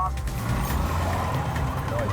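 A stolen Audi speeds past at full speed on a motorway, its engine roar and road noise steady and loud throughout, with a faint higher whine near the end.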